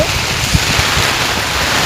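Heavy rain pours in a steady, loud, dense wash of noise with no pauses and no voices.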